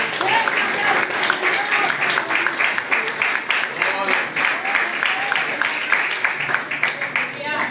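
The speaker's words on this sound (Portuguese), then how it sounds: "Você pode aplaudir ao Senhor nessa noite?" A church congregation applauds steadily throughout, a dense and continuous clapping with a few cheers mixed in.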